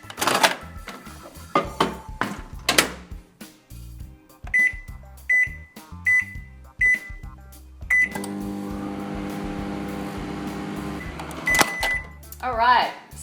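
A microwave oven set to power level 7 beeps several times as its keypad is pressed, then hums steadily while melting Wilton candy melts, and a final beep sounds as it stops. The beeps are close and clear.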